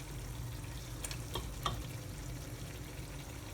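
Prawns sizzle in a pan over a low flame, a soft continuous frying crackle with a few brief stirring scrapes, quiet and close.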